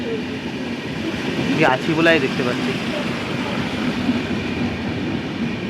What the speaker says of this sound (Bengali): হাওড়া রাধিকাপুর এক্সপ্রেস চলে গেল।